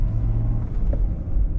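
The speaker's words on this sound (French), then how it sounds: "Là, comme ça, tu vas découvrir l'accélération de la voiture." A BMW 523i's engine rumbles low and steady as the car accelerates, a close, continuous drone from the cabin with no voices.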